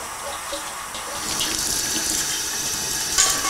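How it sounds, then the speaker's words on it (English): A steady stream of water runs and splashes inside a beer keg during a quick rinse, nearby and continuous with a slight swell toward the end. "just give it a little rinse off there"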